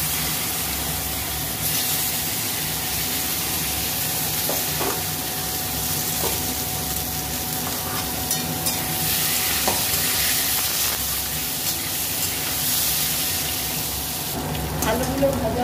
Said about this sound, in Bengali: ওলকপিগুলো ভেজে নেব।